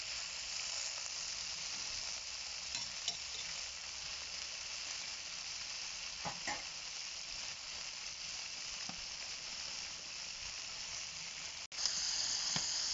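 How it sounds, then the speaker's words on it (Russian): Lamb meat, about 22 kilograms, sizzles and fries in a large pot, a steady close hiss that runs the whole time with a few faint clicks and a sharp knock near the end. "Все еще жарится наше мясо"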